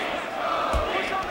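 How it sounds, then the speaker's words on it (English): A crowd roaring in support at a combat fight event, a steady wash of cheering with a brief louder swell in the middle. "The crowd showing their support for the Fireball Kid"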